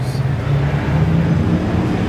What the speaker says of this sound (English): All these freaking cars.